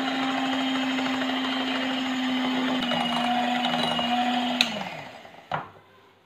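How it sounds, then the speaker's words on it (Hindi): An electric hand beater whirs steadily at low speed through icing sugar in a bowl, a loud even motor drone that winds down near the end, followed by a couple of clicks and bumps. "लो स्पीड पे आपने इसे बीट करना है।"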